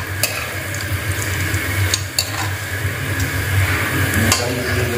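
Cashews fry in ghee in a village kitchen, a continuous sizzling hiss over a low hum, broken by a few sharp utensil clinks as they are lifted out of the pan.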